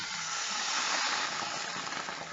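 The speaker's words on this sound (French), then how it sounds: "Maintenant, on va déglacer les sucs de viande avec le vin rouge." Red wine hits a hot pan of duck meat juices with a strong, steady steaming hiss, close and continuous, with one faint clink partway through and no talk.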